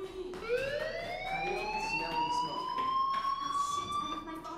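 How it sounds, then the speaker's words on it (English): A fire alarm rings in the video game Life Is Strange, a loud, steady rising electronic wail that climbs in pitch and then holds, continuous throughout with a faint murmur of voices underneath. "Hey, do you hear that fire alarm?"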